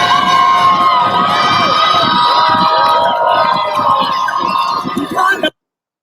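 A crowd cheers at a gay pride parade, a dense wash of shouting, whistles and high children's voices played back loudly, continuing steadily until it cuts off abruptly just before the end.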